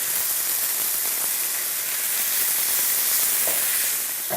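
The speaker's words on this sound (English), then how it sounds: "We'll allow the leeks to cook for 2 to 3 minutes, or until they start to become a little golden brown" Leeks cooking in a pan give off a steady, dense sizzle that stays fairly even throughout, close and moderately loud with no voices.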